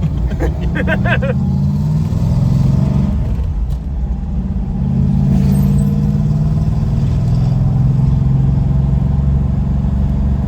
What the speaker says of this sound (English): And Kiwi's driving because Kiwi's insured for these kind of fancy automobiles.